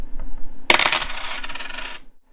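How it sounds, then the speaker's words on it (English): A handful of loose change drops onto a surface indoors, caught close on a RODE VideoMicro for iPhone: a bright clattering burst of jingling coins that rattles and settles over about a second, then falls quiet. "Some change."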